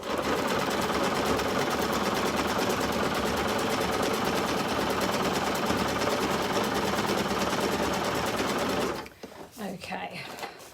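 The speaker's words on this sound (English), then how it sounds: "I'm just going to do it face up because I've already got my guide. So let's just stitch that down" Sewing machine stitching a quilt seam for a lap quilt, a loud continuous rapid mechanical whirring with fast regular needle clatter for about nine seconds, then stopping abruptly into quieter handling sounds.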